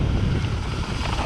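Wind rushing past a rider descending a mountain bike trail at Maryvale Pines MTB Park, a brief steady broadband roar of buffeting air, close and loud with no talk.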